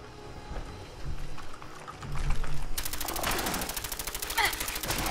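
Rapid automatic gunfire in Fallout 4 in the Glowing Sea, a dense stuttering burst that starts partway through and runs steadily to the end over a busy game background.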